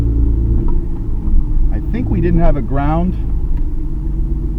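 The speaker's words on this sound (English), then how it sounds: "This car's idling way better now." A Nissan R32 GTR with an R35 coil pack kit idles with a steady low rumble close by, while people talk over it.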